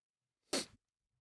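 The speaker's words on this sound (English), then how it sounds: "Hold on, I have to sneeze as well," A single sharp human sneeze bursts out close to the microphone, loud and brief, surrounded by near silence.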